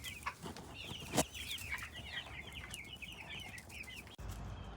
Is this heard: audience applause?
no